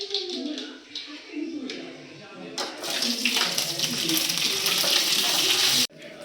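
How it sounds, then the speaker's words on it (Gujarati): Green chillies frying in a pan in a home kitchen make a steady, loud sizzle that starts abruptly and runs to the end, with faint voices and clatter beforehand. "મમ્મી મરચાં તળો"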